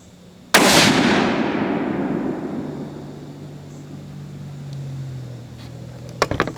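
A single loud, sharp report from a 6.5 Creedmoor rifle fired at a bullseye target outdoors, with a long rolling echo trailing off for several seconds, then a few faint clicks at the end.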